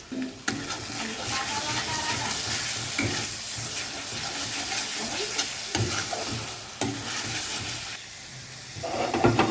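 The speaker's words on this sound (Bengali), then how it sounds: "এবার ভালো করে মশলাটাকে কষিয়ে নেব" Masala with bay leaf, turmeric, salt and Kashmiri chilli powder fries in a pan, a dense continuous sizzle punctuated by regular scraping strokes of a spoon, dipping briefly before resuming, with no speech.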